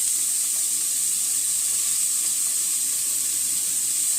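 Ginger pieces and chopped garlic hit a dry pan with vegetables, no oil, giving a steady, close, even hiss of sizzling that runs unbroken throughout with no talking.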